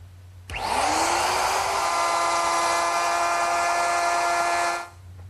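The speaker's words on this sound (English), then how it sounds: "To make the dado, I'm going to use my router, which is equipped with a collar and a straight cutting bit." A router fitted with a collar and a straight cutting bit cuts a dado in wood, spinning up sharply into a loud, steady high whine for about four seconds, then winding down, with no talk.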